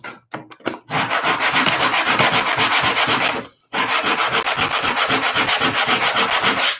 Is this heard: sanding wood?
yes